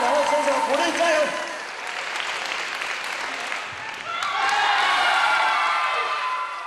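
An audience claps and cheers for two competitors, one in red protective gear, in a match setting. The applause swells, dips, then rises again, mixed with crowd shouts, and a voice talks over part of it.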